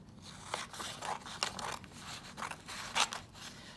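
Scissors cut through a printed paper sizing card in quick, crisp snips with papery rustles between them, close and quiet, with no talk.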